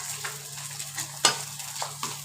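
Khichuri cooking in a pot, a soft low sizzle with a few stirring scrapes and one sharper clink of the spoon, close by and fairly quiet.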